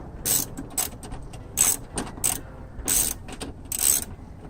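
Ratchet wrench clicking in quick bursts while tightening parts inside a Honda door during a broken window rattle repair, several loud, close runs of sharp pawl clicks with short pauses between.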